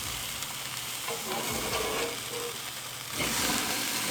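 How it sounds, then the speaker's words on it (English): A burger patty sears in a hot pan, a steady close sizzle and crackle with a brief stirring or scraping noise, the frying swelling louder near the end, no speech. "Now let's work on this sear."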